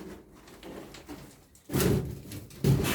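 Pigeons in a loft, with soft shuffling and a couple of louder bursts of wing flapping or movement toward the end, heard up close with no talking.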